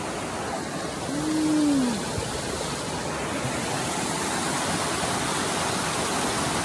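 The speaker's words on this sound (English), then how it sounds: "And waterfall. You can hear it." Waterfall at Nambe Lake, heard as a steady, full rushing roar that fills the whole stretch without pause, with one brief tonal whistle rising and falling early on.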